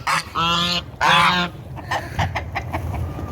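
A guard goose on a farm honks loudly near the coop, two long strident honks followed by a string of shorter, quieter calls and clucks.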